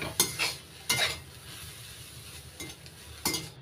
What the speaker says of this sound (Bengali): এবার নাড়াচাড়া করে মিশিয়ে নিচ্ছি ভালো করে।